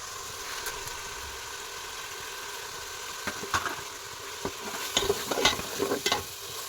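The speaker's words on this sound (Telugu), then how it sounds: "ఫ్రై అవుతున్న మసాలాలోకి ఉప్పు కారం గరం మసాలా ధనియాల పొడి పసుపు వేసి బాగా అన్నిటిని రోస్ట్ చేసుకుందాము" Ground spices with salt, chili, garam masala, coriander powder and turmeric roasting in a pan for eggplant dum biryani, a steady low sizzle followed by several sharp scrapes and clinks of a spoon stirring near the end.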